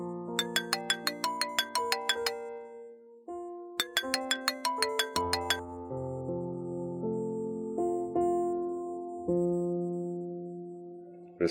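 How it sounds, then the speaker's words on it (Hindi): A phone rings in a Pakistani Urdu TV drama scene: bright melodic ringtone chimes repeat in quick bursts, then give way to longer sustained tones, loud and clear with no talking. "आप फ़ोन कर लीजिए।"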